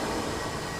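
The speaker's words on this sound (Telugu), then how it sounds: "ఏందబ్బా ట్రైన్ బ్రేక్ వేస్తే ఇలా తరగడిపోయింది" A train brakes hard in the Poppy Playtime Chapter 2 horror game, giving a short, loud burst of broadband rumbling and grinding with no voices over it.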